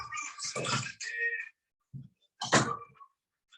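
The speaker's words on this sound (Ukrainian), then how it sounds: "У мене кіт тут двері виносить." A cat bangs against a door in several dull thumps and rattles, in short bursts separated by brief silences, close by and fairly loud.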